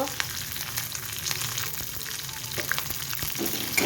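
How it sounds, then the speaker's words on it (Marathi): Chillies, garlic, curry leaves and asafoetida fry in hot oil as a tempering for mung dal, giving a steady close crackling sizzle with small pops throughout. "घालून छान परतून घ्यायचे आहे ही फोगणी आपल्याला छान चुरचुरीत करायची आहे"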